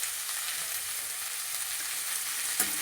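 Mint leaves frying in hot oil in a pan, a loud, even, continuous sizzle with one brief knock near the end.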